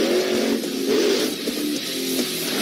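A New Bright Hot Wheels radio-controlled monster truck toy runs with a steady, buzzing motor whine and slight pitch rises, continuous and fairly loud over a few seconds with no talk.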